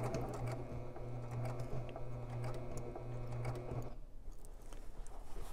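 A home sewing machine stitches quilted fabric layers for a Buckthorn sew-along project at slow speed, humming steadily with a rapid needle rhythm, then stopping abruptly near the end and leaving quiet room noise.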